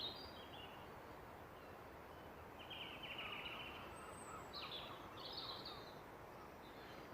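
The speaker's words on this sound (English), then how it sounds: "It's nice to just listen to the birds, hear them." Faint bird calls and chirps drift in from a distance over a steady soft background hiss in woodland, a few short bursts scattered through an otherwise quiet outdoor scene.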